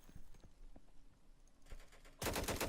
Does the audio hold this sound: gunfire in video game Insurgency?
yes